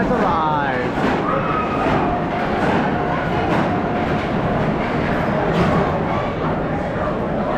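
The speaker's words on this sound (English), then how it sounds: "We're in the front row, and our train has arrived." A Sand Serpent roller coaster train at Busch Gardens Tampa Bay rumbles into the station, a steady loud mechanical roar with faint squeals, while people chatter nearby.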